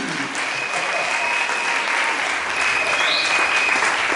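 Church congregation applauding and cheering for Jesus during a French-language worship service, a steady dense wash of clapping across the whole stretch with some voices mixed in.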